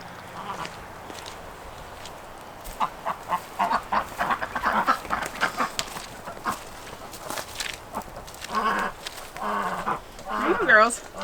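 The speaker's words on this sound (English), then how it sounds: "So I'm gonna go in and give what's left to the ducks," Ducks and other farm birds quack and call in bursts around feeding time at a fodder setup, close and fairly loud, with a person speaking briefly amid the calls.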